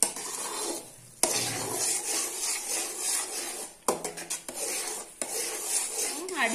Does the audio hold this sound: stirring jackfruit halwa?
yes